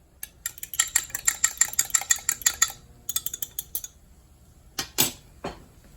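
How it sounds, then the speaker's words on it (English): A fork or whisk clinks quickly and rhythmically against a bowl while eggs are beaten for an omelette, a steady run of sharp ticks, a pause, then a few more taps and loud knocks close by. "So just beat it long enough to incorporate the yolks into the whites."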